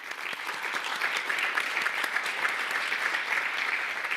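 An audience at an electric-vehicle industry summit gives a sustained round of applause, many hands clapping in a dense, even patter that stays steady throughout with no talk over it.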